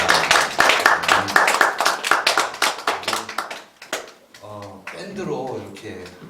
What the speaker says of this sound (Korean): 우리 다시 한번 하나님께 영광의 박수 올려드리겠습니다